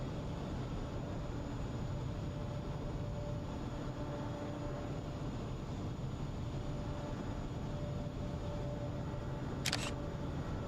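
A single quick camera shutter click from Microsoft Flight Simulator snaps near the end, over a steady, faint drone of aircraft engine noise.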